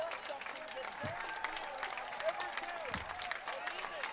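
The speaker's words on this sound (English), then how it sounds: "Potters fans applauding Scotty Wright on this incredible evening" Baseball fans at McBean Stadium applaud a pitcher after a perfect game, a diffuse crowd clapping and cheering heard from a distance beneath a commentator talking.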